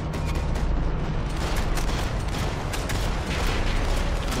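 Rapid gunfire from a firefight in the video game Max Payne 3 rattles in dense, loud bursts, layered with booming impacts over the full stretch.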